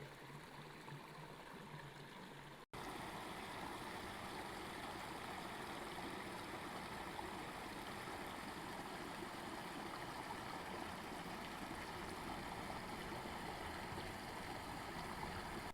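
Laurel Canyon creek in the Santa Teresa Wilderness flowing well, a steady, even rush and trickle of water heard close and alone, after a brief quieter stretch and a sharp cut.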